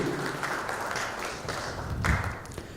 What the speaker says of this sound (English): Please keep your clapping going.